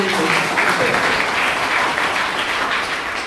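An audience at a local gathering honouring an MLA claps steadily, a dense, sustained wash of applause from many hands that fades slightly toward the end, with some voices underneath.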